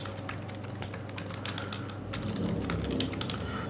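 Steady typing on a computer keyboard while entering code for an Ethereum-style token approve function, a continuous run of close clicky keystrokes with no voices.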